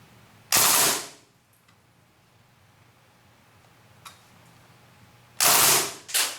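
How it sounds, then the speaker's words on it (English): Two bursts from a WE Apache SD3 gas blowback airsoft SMG in burst mode: a loud rapid crack of shots, a long quiet gap with one faint click, then another loud burst followed by a short second one. "now we switch to the burst mode and test it"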